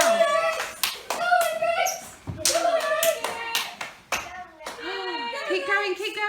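Children clapping and cheering at a school assembly, bursts of handclaps and excited young voices rising and falling close by, with adults calling encouragement over the noise.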